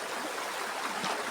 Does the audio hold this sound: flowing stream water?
yes